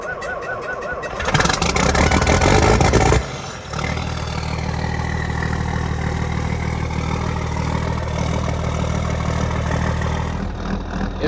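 An old John Deere 4650 tractor engine cranks over for a couple of seconds, catches, and settles into a steady, loud diesel idle that runs to the end, with no talking.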